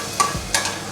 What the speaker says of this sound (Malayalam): നമ്മൾ വെർമിസെല്ലി റോസ്റ്റ് ചെയ്തത് ആഡ് ചെയ്ത് കൊടുക്കുകയാണ്.